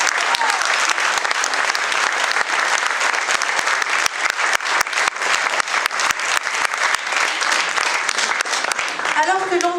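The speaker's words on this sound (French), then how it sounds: "Je vous remercie de les applaudir" Loud, sustained applause from an audience at a municipal New Year's greetings ceremony in Bièvres, dense clapping throughout that thins slightly at the end as a voice begins.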